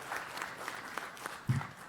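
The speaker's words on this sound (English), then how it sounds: "huge round of applause to Team Bengaluru" An audience claps briefly for Team Bengaluru at a quiz finale: a short, fairly faint patter of hands from a small crowd, with one slightly louder burst near the end.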